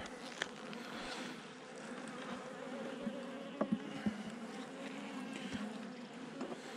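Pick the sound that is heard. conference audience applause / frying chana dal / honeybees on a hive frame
honeybees on a hive frame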